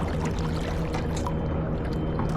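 A larger, deep-draft power boat slowing near a J24 sailboat during race practice throws its wake, heard as steady churning and sloshing water with a continuous low engine-like hum underneath, no talk.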